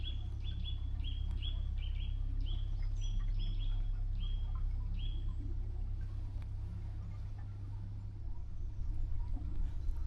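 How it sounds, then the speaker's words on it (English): Birds chirp and sing in short repeated bursts over a low, steady narrowboat engine rumble, fairly faint and a little distant. "Oh, it's so nice hearing the birds."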